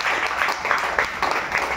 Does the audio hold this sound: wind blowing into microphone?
no